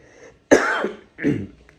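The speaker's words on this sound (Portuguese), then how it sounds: "Ó, a tosse." Two harsh coughs close by, a strong bark followed after a short pause by a softer second one, with no talking.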